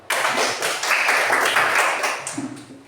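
A group of children claps hands together, a dense, close burst of rapid claps with a few louder accents, carrying on for nearly three seconds in a classroom setting.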